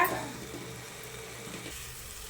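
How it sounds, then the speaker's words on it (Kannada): Garam masala and spices frying in a pan for egg biryani, a close, steady low sizzle with a brief louder burst at the start, then a soft continuous hiss. "ನೋಡಿ ಫ್ರೈ ಆಗ್ತದೆ."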